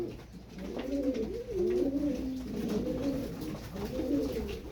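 Purebred tumbler pigeons coo close by in soft, repeated rolling phrases that run almost without a break, with no talk over them.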